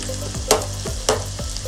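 A spatula scrapes and turns salted onion in sizzling oil, with a few distinct strokes over a constant close frying hiss and no talk.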